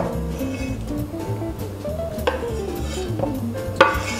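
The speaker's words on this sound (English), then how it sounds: "So you just add all the chopped sausages in, we've sliced up. Stir it in nicely so it gets a little bit warm." Sliced sausages go into a pot of peppers, beer and rice and get stirred, giving soft scraping with a few sharp metallic clinks of a utensil against the pot, under faint tonal background sound.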